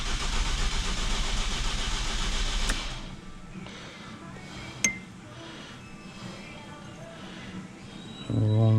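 A car engine cranks over with a broad, rough rumble for about three seconds and then drops to a lower, uneven chugging, with a sharp click partway through.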